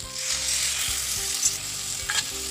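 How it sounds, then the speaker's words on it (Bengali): Carrots and potatoes sautéed with spices in oil, a steady close sizzle and fry with a few stirring scrapes toward the end, no voices. "গাজর আর আলুটা দিয়ে মশলার সঙ্গে আরও কিছুক্ষণ কষাবো।"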